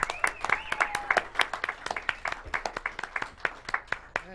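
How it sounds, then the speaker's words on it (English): A round of applause from a modest audience at a local TV show taping in El Monte, scattered individual claps in a loose, uneven rhythm, fairly faint, with a voice talking over part of it. "Give him another round of applause, please"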